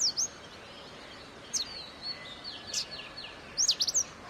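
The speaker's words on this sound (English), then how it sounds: "Oriental magpie robin is a medium-sized robin with a broad white wing bar" An Oriental magpie robin on the Andaman and Nicobar Islands sings in short, bright, whistled phrases, repeated in small clusters several times over a few seconds against a quiet background.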